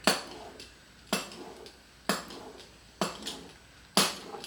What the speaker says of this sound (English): And I just use a pizza cutter.